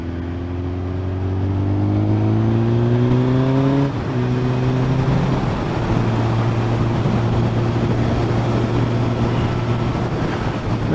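A Suzuki GSX1400 motorcycle engine accelerating hard up to about 80, heard close and loud, its pitch climbing steadily, dipping briefly at a gear change, then holding a strong steady drone.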